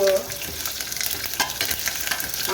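Green chillies, five or six of them, frying in oil in a pan give off a loud, steady, crackling sizzle that fills the whole short stretch without pause.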